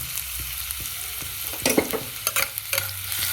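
Garlic and ginger paste frying in hot white oil in a pan while making chicken momos; a constant close sizzle with several sharp stirring scrapes and spatters toward the middle and end, no talking.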